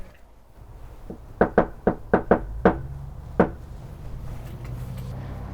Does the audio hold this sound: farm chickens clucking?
no